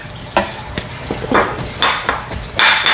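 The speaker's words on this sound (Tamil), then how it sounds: "புட்டு கோத்தினா சத்தம் கேட்கும் தான்" A puttu steamer mould is tapped several times in a kitchen while making rice and urad flour milk puttu, giving sharp irregular knocks and clatters over low background noise.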